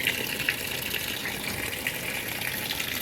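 A 2015 Speed Queen 8 Series washing machine filling with water for its second rinse, a steady rushing gush of water running continuously at moderate level, with no voices.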